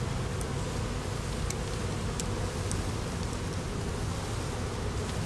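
A honeybee swarm buzzing in a backyard, a constant dense hum of many bees close to the microphone with no pauses, occasional individual bees zipping past.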